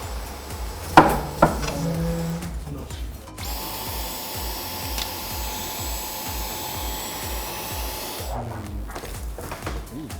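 Dyson Digital Slim cordless vacuum cleaner whirring at a steady high pitch for several seconds, preceded and followed by clattering and bumping sounds of handling nearby.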